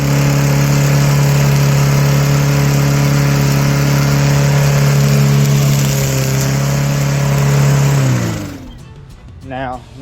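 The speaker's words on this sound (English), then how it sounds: "I could mulch it, especially if you have a good mulching lawnmower" A mulching lawnmower running over dry leaves: a loud, steady engine drone with a strong tonal hum that winds down and stops near the end, then a voice speaks.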